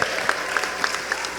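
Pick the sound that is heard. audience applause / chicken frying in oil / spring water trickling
audience applause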